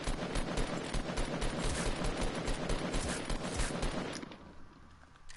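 Dense rapid gunfire from players shooting at each other in a PS4 video game, continuous bursts of shots for several seconds that stop abruptly near the end.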